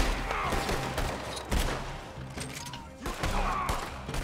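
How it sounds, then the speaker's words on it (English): Gunfire crackles in a Red Dead Redemption 2 firefight, with repeated sharp shots and bursts of varying distance over a dense, rumbling battle backdrop, with no talk. "They're shooting from across and below."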